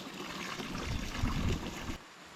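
Water gushes steadily from a garden irrigation hose laid out in a vegetable plot, a close, even hissing splash that cuts off abruptly near the end.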